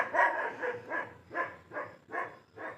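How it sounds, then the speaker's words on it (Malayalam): A large dog barks in a steady series of about seven separate woofs, evenly spaced and fairly close, with no talking over it. "അവിടെ നായുണ്ട്"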